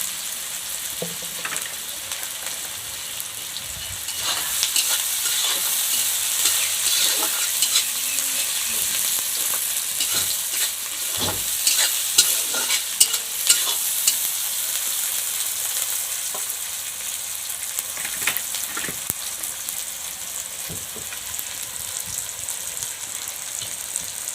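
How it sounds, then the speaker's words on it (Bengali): Onions fry in hot oil in a pan for a fish curry, giving a continuous bright sizzle with occasional louder crackles and stirring scrapes, close by and steady throughout. "পেঁয়াজটা ভাজা হয়ে গেছে"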